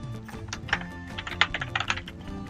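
Keys clatter on a computer keyboard in a quick, uneven run of close clicks, with a steady low hum behind them and no talking.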